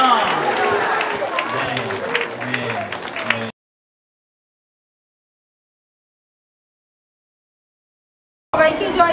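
A church congregation claps loudly with voices mixed in for a few seconds, then the sound cuts to complete silence before the clapping and voices abruptly return near the end.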